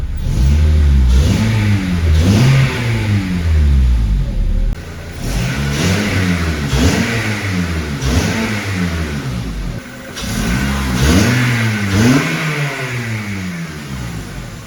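Acura RSX fitted with a Flashark race header revs repeatedly up and down, loud and close, each rise climbing in pitch before dropping back toward idle, with no talking.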